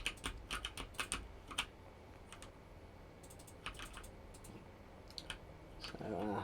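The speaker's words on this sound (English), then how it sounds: "apologies if my keyboard is being picked up" Computer keyboard typing picked up by a desk microphone: bursts of quick, crisp key clicks in uneven clusters with short pauses between, fairly close but quiet, with a voice starting at the very end.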